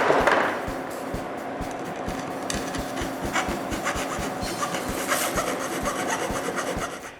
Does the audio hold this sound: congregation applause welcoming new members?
no